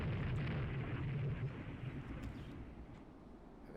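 Torpedo explosion striking a battleship in the naval strategy game Rule The Waves 3, a loud, deep, rumbling blast that fades slowly over a few seconds with no talk over it.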